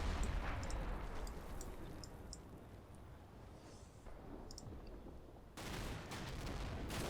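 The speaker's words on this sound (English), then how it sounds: "It's the Mark 19 fire." Mark 19 grenade launcher fire in Combat Mission: faint, distant thumping reports and scattered battlefield gunfire under steady low rumble, with a louder burst of impacts near the end.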